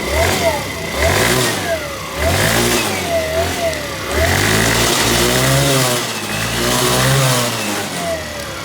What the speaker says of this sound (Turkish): Gaz verdikçe bu olur motor.